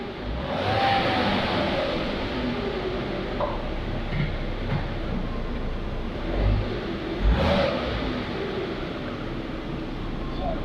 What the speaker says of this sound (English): That was up through the gears into all 5